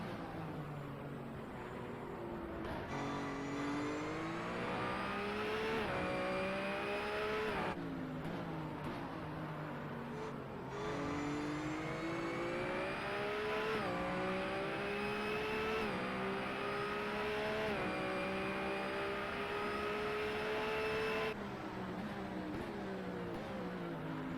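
Several race car engines in a racing video game drone loudly together behind the player's BMW Z4 GT car, pitches climbing and dropping in waves as gears shift, close and continuous.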